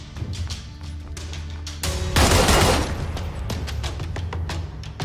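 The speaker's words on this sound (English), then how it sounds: "When shooting from a standing position, there is substantial recoil and sway to contend with, especially when firing rapidly." Rapid DMR rifle fire in PUBG Mobile, a quick run of loud, close shots with a dense burst of reports clustered near the middle and scattered single cracks before and after.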